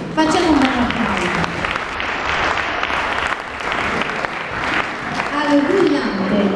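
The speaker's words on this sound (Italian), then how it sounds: "Facciamo un bel applauso." Audience clapping steadily for a junior folk band drummer on the snare drum at a band presentation, with loud dense applause throughout and voices mixed in.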